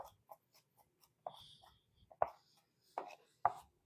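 A knife taps steadily on a cutting board while mincing fresh garlic, with quiet irregular chops at first and a few sharper, louder strikes near the end, close and alone.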